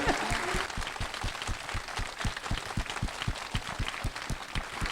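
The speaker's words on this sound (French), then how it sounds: "Nous nous entendons les applaudissements jusqu'ici" Studio audience applauding at a French regional TV programme recorded on location in Commenailles, a steady sustained burst of many hands clapping, fairly close and even throughout.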